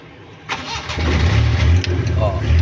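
A car engine cranks and catches at about half a second during a manual driving lesson, then settles into a steady, loud idle that fills the rest of the clip, with an instructor talking over it.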